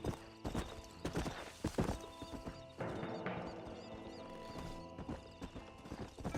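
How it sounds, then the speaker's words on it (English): Horse hooves clip-clop steadily on a road in the Western video game Red Dead Redemption, a close, brisk rhythmic gallop with a whinny partway through over faint ambient background. "So your horse is faster on the road"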